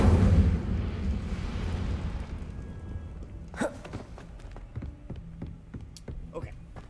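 Fiery burst of an Incendio spell cast in the Hogwarts video game, a loud roaring whoosh at the start that fades into crackling, followed by a few sharp pops and flickers.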